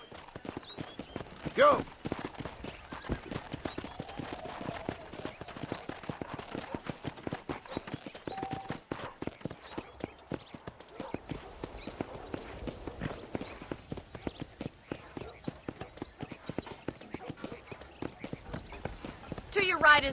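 Horse hooves clip-clop steadily while riding across a ranch in Red Dead Redemption, a continuous rhythmic trot with occasional tack jingles, mid-distance, with a voice shouting briefly near the start and talk over the ride.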